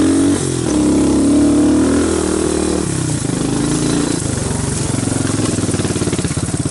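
A Suzuki Quadrunner 250 ATV engine held at full throttle, a loud, close, steady drone that shifts pitch partway through and settles into a rough, pulsing run, with no voices.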